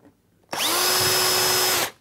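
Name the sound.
power drill drilling a pilot hole in a wall unit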